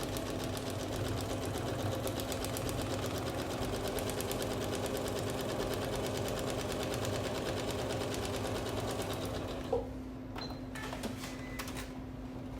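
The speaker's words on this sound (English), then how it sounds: "I'm going to take this over to the machine and stitch that long seam, start to finish." Sewing machine stitching one long seam through quilting fabric, a steady close whirring drone with rapid rhythmic stitch clatter that runs unbroken for about ten seconds, then stops, followed by a few faint handling clicks.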